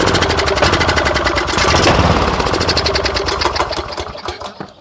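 Engine of a 2013 Cub Cadet LTX 1040 lawn tractor that sat for years, running roughly with a suspected plugged carburetor, loud and close with a rapid chugging pulse that wavers and fades toward the end.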